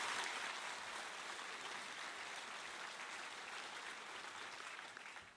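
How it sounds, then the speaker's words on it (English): Sustained crowd applause for a graduate at a graduation ceremony, steady and full for about five seconds before tapering at the end, faint in level and with no talking over it. "Let's give him a round of applause for doing that."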